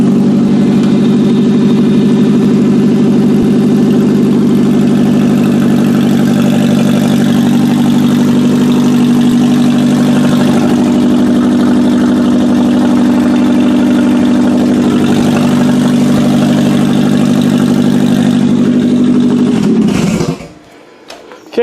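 A 2011 Subaru Outback engine fitted with headers idles loud and close in a steady, throbbing drone, then cuts off near the end.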